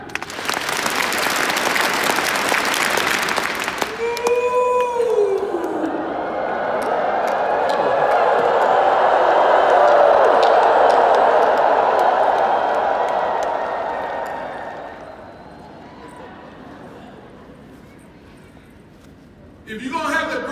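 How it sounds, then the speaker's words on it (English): A large convention audience claps and cheers for several seconds after a short burst of speech, the sound swelling into a broad roar around the middle, then fading to quiet before a voice returns. "clap 10 times"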